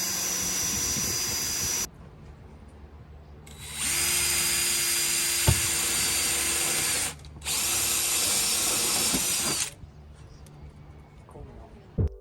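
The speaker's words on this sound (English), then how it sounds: "drill in the rest of the holes for the pop rivets" Power drill boring holes for pop rivets in a Land Rover Defender body during a pop-top roof install, two long steady whining bursts with a shorter start, close and loud, stopping between holes.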